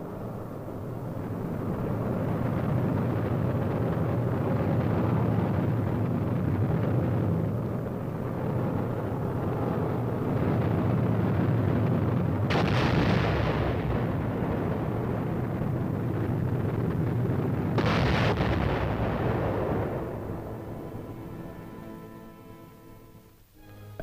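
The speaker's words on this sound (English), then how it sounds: "these captured German films of early rocket launching show" An early German V-2 rocket launches on archival film, a loud, sustained roaring rumble that holds steady for about twenty seconds with two sharp bursts partway through, then fades away, with no voices.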